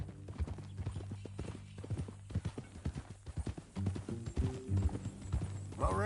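Horse being ridden in the Western video game Red Dead Redemption 2, a steady, close clip-clop of hooves with a low hum behind it and a brief snort or whinny at the end.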